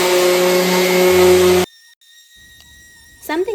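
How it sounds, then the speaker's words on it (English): A power sander working a wooden dresser top with 120-grit sanding net roars loudly and steadily for about a second and a half, then cuts off abruptly, leaving near-silence with a faint hum and a small rustle at the end. "So let's get to sanding."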